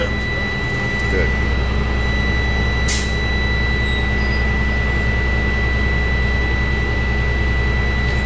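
A bus engine idles loudly and steadily while building air brake pressure, a constant close drone with a hum and a brief hiss near the middle.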